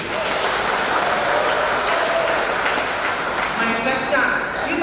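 Steady applause from an audience at a talk held by Bapenda Jatim, dense and even throughout with a faint murmur of voices underneath.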